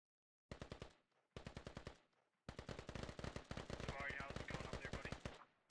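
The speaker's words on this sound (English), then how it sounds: "A lot of suppressive fire." Bursts of automatic suppressive gunfire in the military shooter game Squad: two short volleys separated by pauses, then a long sustained stream of rapid shots, loud and close.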